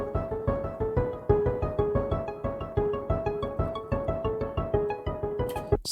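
Swirling synth arpeggios from Nexus and Forbidden Planet, rapid repeating plucked notes pulsing in a steady rhythm under a bright, shimmering tone with no voices.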